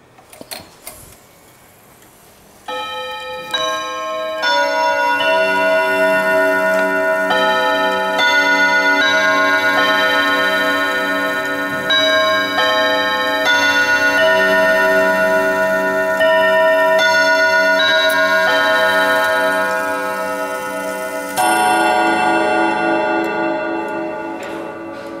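A wooden mahogany clock chiming a long, resonant melodic sequence of sustained bell tones that ring on and overlap, with faint ticking at the start before the chimes begin.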